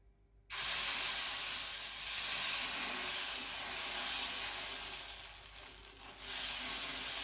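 Jackfruit dosa batter frying in a little oil on a hot pan, a sudden loud sizzle that bursts in and holds as a bright, steady hiss close by, easing slightly before swelling again.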